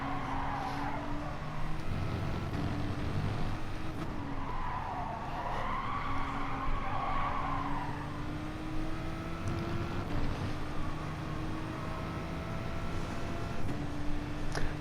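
A Red Bull race car in an FIA manufacturers racing video game drones with a steady, fairly quiet engine note whose pitch climbs and settles repeatedly, mixed with faint tire skidding.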